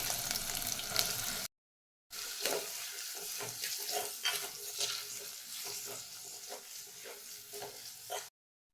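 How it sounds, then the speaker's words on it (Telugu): Green chillies and onions sizzle in two tablespoons of hot oil in a pan for beetroot fry, with steady frying hiss and scraping stir clicks, close and fairly loud, broken by a short silent gap early on. "అదే గిన్నెలో టూ టేబుల్ స్పూన్ ఆయిల్ వేస్తున్నానండి ఇందులోనే పచ్చిమిర్చి ఆనియన్స్ కూడా వేసి ఒకసారి కలుపుకుందాం"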